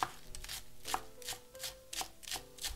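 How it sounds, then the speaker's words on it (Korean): A knife minces oyster mushrooms on a cutting board in quick, even, close taps, about three per second, with nobody speaking. "이쪽 반은요, 잘게 다져주세요"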